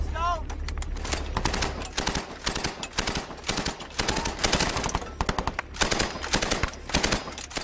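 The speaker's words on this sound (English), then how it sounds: "Were fired on from at least 2 positions." Machine-gun and rifle fire from Taliban positions in Afghanistan crackles in dense, sustained bursts from at least two directions, loud and fairly close, with voices faintly under the shooting.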